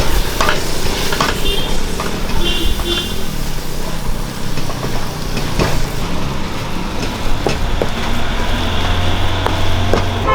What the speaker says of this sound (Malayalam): മൂന്ന് സ്പൂൺ മുളക് പൊടി രണ്ട് സ്പൂൺ മല്ലിപ്പൊടി ഇനി നമുക്ക് ഇളക്കി കൊടുക്കും